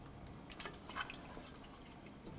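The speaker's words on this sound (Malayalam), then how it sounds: "ഇനി ഇതിലോട്ട് മീറ്റ് വേവിച്ചതിൻ്റെ സ്റ്റോക്ക് ഒഴിച്ച് നന്നായിട്ട് മിക്സ് ചെയ്തതിന് ശേഷം" Cooked mutton stock poured into a simmering curry for mutton kurma, a brief, faint liquid splash and dribble.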